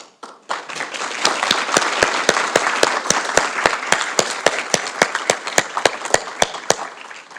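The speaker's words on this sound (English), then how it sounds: "Please give them a round of applause, which was already started." An audience bursts into applause at a police awards ceremony, a sharp clap starting it off before many hands join in a steady, dense round of clapping that carries on with distinct loud claps standing out.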